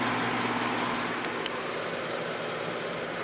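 A vintage Patton electric fan with a shaded-pole motor runs on low, giving a steady close whooshing drone with a faint low hum and one tiny click partway through.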